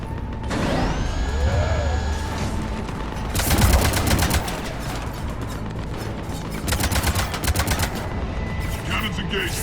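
Ship cannons fire in the sci-fi video game Mass Effect 3, bursts of rapid, heavy mechanical shots hammering in loud clusters amid whirring machinery and tonal sweeps, with a longer barrage midway and another near the end.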